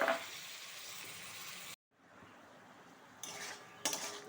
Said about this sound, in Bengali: মুগ ডালটা ভালো করে মিশিয়ে নিচ্ছি।